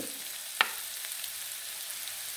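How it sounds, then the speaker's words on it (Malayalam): Onions sauté in a pan for a clam pepper roast, making a soft, faint sizzle with a single sharp clink early on and no voices. "അപ്പോൾ നമ്മുടെ ഉള്ളിയെല്ലാം നന്നായിട്ട് വഴന്നിട്ടുണ്ട്."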